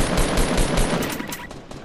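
Rapid automatic gunfire bursts loudly in Fortnite Battle Royale, a dense rattling volley close up that fades out over about two seconds.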